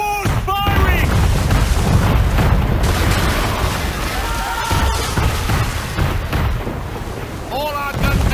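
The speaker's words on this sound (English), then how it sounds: "Man of war's firing!" Man-of-war ship cannons fire in the Assassin's Creed 3 video game, a loud run of deep booms and rumbling blasts layered with battle noise and shouted voices throughout.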